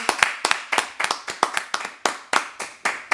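A church congregation claps in steady rhythm to acclaim the word of God, about a dozen crisp, even hand claps ringing out in a lively group beat with no voices over them.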